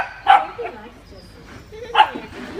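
A pug gives two short, sharp barks a couple of seconds apart while playing in a ball pit at puppy school. Faint background noise fills the quiet between the barks.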